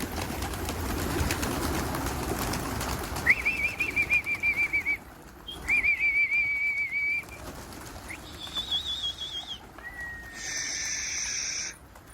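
Pigeons, a flock of tumbler pigeons being released to fly, coo and call in bursts over a steady rustling background, with some flapping and fluttering mixed in, fairly close.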